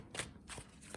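A deck of tarot cards is shuffled close by, three soft papery riffling bursts in a quiet room, each short and fluttering, with no talking.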